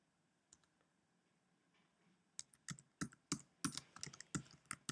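Computer keyboard typing, starting with a few faint isolated taps and then building into a quicker run of sharp, close clicks in a quiet room.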